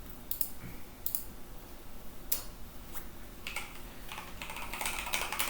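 Keys tapped on a computer keyboard while writing C file-handling code, irregular bursts of light clicks that quicken toward the end, close and fairly quiet over a low background hiss.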